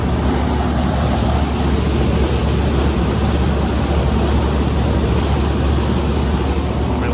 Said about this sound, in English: Sorry about the air conditioner,